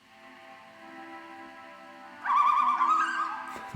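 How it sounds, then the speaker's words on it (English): A soft steady tone hums alone at first, then bright bird calls burst in partway through and continue to the end, loud and close. "So maybe we'll just add birds."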